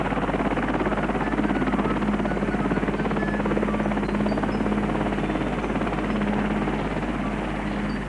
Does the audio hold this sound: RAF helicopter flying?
yes